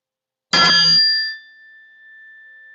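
A meditation bell struck once to open the session, a sharp metallic strike followed by a clear sustained ringing tone that slowly decays, alone in silence.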